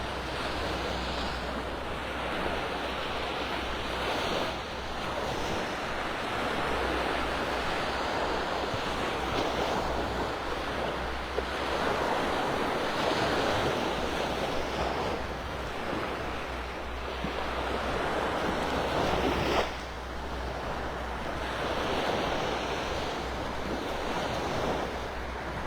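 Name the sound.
ocean waves on Delnor-Wiggins beach, North Naples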